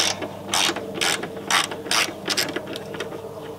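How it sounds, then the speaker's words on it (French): A ratchet wrench loosening a bolt on the front shock absorber of a Renault Koleos, heard as several short bursts of rapid clicking, one per stroke, close and clear against a quiet workshop background. "Bon, on va essayer maintenant, je desserre, de simplement desserrer"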